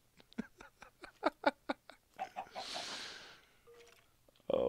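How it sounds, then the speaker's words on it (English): A chicken in vanilla Minecraft gives a run of short, sharp clucks in a quick rhythm, followed by a soft airy rustle and a few fainter game sounds, with no talking. "Get in the hole, chicken."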